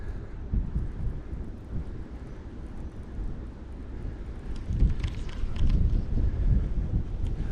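Wind buffeting a microphone on a fishing boat during bass lure testing, a steady low rumble that swells louder near the end, with no talk.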